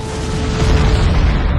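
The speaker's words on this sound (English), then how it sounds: "Explosions in the center of Kyiv." A sustained, heavy low rumble with dense broadband noise throughout, like distant explosions booming and rolling, loud and continuous without clear gaps, from explosions in central Kyiv during the Russian attack on Ukraine.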